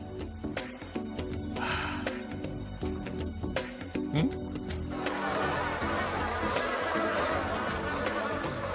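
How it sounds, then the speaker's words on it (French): Bees buzzing in a dense, droning swarm in a French-dubbed Donkey Kong Country cartoon, with scattered sharp clicks and a breathy gasp, the buzz growing louder and constant in the second half. "Allez, ousse les abeilles."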